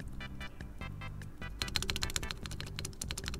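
Spacebar of a mechanical keyboard with lubed stabilizers tapped lightly in a quick run, with a short pause partway through before the tapping resumes slightly louder. Each key press lands as a close, crisp clack with no talking.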